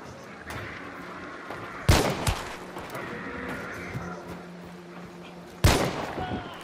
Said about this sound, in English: Landing shots, but I just haven't got the range with this gun.